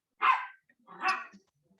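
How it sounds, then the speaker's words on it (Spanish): A female dog gives two sharp barks at birds, about a second apart, close and fairly loud, with silence around them. "Disculpe mi perra que vive ladrándole a los pájaros"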